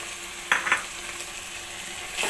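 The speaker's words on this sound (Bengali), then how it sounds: "এখন সেই টক দইটা এখানে দিয়ে দিলাম এখন এটাকে নেড়ে চেড়ে আমি পাঁচ মিনিট এটাকে রান্না করে নেব" Cardamom, cinnamon, bay leaf, salt and sweetened sour yogurt sizzling in a pan for an egg korma, a steady close hiss with a few quick scraping stirs.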